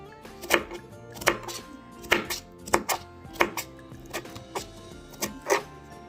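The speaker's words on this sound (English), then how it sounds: "So I'm just gonna chop those, like I said, about 1/2 inch cubes." A knife chops watermelon rinds into half-inch cubes on a cutting board, a string of crisp, evenly spaced thunks at close range with no talking.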